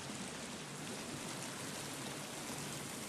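Water in the survival video game The Forest rushes loudly and steadily for the whole stretch, a dense unbroken roar like a cascade or heavy stream, with no speech over it.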